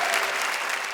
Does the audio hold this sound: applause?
yes